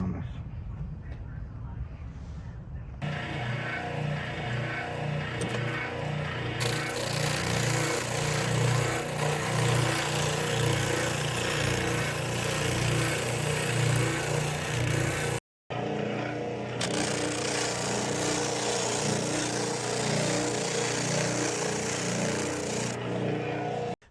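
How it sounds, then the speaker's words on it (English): Power sander rounding the ends of four clamped wooden boards for a hunting boat build, a loud steady motor whine running continuously for most of the stretch with one brief cutoff before restarting. "I'm gonna use this sander, get all 4 together, and make all 4 of these the same roundness."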